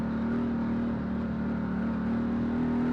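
A steady, loud engine drone with a low exhaust hum from a Can-Am Maverick Trail 800 UTV runs unbroken throughout, close to the microphone, with no voices.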